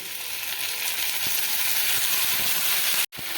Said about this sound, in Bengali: পেঁয়াজটা আমার মোটামুটি ভাজা ভাজা হয়ে গেছে এখন আমি মশলাটা আদা রসুনের পেস্ট একটু দিয়ে দেবো